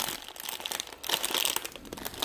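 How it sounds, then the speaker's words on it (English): Plastic food packaging is torn open with teeth in a home kitchen while cooking one-handed, giving close, steady crinkling and ripping for a couple of seconds that grows a little louder partway through. "I'm ripping things open with my teeth"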